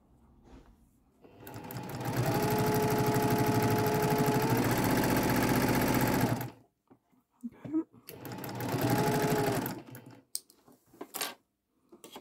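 A sewing machine stitches quilt fabric in two steady runs, a fast mechanical whir lasting several seconds, then a pause with small clicks and handling noises before a shorter second burst.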